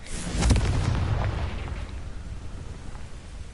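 Confringo explosive spell blast in Hogwarts Legacy, a sharp, loud detonation that sets off a long, rolling rumble, which slowly fades over a few seconds.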